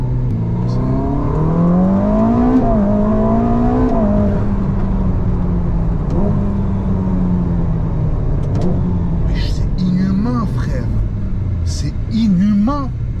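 A Ferrari, the most powerful road car the maker has built, accelerates hard with electric boost, its engine note climbing in rising sweeps through gear changes, loud and close from inside the cabin while people talk over it.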